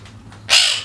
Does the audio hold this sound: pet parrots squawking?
yes